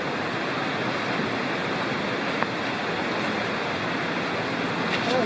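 Constant broadband rush of a waterfall blending with a flowing creek in the Lost Cove Wilderness Study Area, North Carolina, steady and fairly loud throughout, with no voices.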